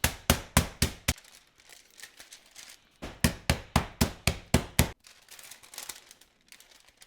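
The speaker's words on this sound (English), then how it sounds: "And we're going to smash these breasts flat." A mug used as a makeshift meat mallet pounds chicken breasts flat: two bursts of five or six sharp, evenly spaced thuds, loud and close, separated by quieter handling noise.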